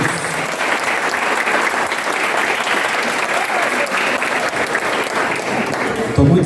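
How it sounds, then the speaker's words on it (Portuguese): Church congregation applauding during an outdoor baptism service, steady dense clapping filling the space for several seconds, fairly loud and continuous with no break. "Vamos aplaudir ao Senhor."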